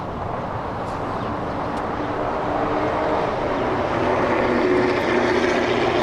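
A Korean Air Cargo Boeing 777 freighter arriving at Los Angeles International Airport on its flight in from Lima, Peru, makes a loud, steady broadband jet roar that builds slightly over several seconds, with no talk over it.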